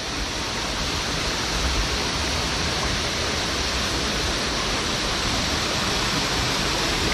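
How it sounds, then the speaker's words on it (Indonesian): A waterfall roars in a loud, steady rush of falling water that fills the whole clip without a break, at Tibu Sampi waterfall over rocks in Gunung Salak village, Tabanan, Bali. "Akhirnya kita sampai ke air terjun Ibu Sampi."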